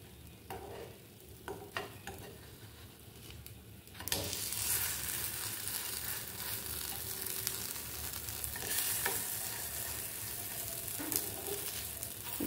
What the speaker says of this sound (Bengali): আমি কিন্তু প্যানকেকটা পুরো ঘিতে করেছি